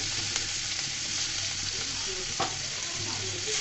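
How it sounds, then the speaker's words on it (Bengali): Cauliflower florets frying in hot oil, a steady dense sizzle with soft crackles and occasional sharper pops, close and continuous. "আর সেই ফুলকপিগুলোকে সুন্দর করে ভেজে নিব"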